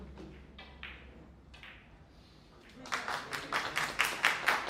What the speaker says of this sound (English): you could hear the round of the applause there for home favorite Edgar Vallanes from Peru taking his second point